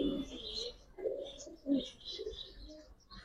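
Several racer pigeons from a molting loft coo in low, overlapping bursts, fairly close and moderately loud, with faint chirps above and no talking.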